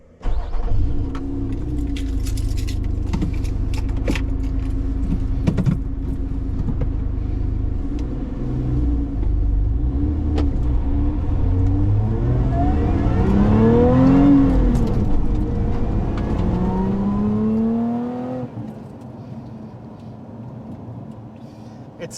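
Lotus Emira and Evora sports cars on the road, a steady engine rumble and tyre roar throughout with a rising rev sweep around the middle, then the engine note drops away near the end; close and loud, no talk.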